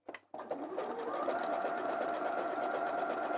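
A sewing machine stitches around the corner of a bag made from a kit, the needle stopping down before it runs on in one steady, continuous whirring hum, close and loud, after a brief start.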